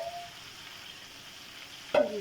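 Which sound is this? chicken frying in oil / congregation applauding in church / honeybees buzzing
chicken frying in oil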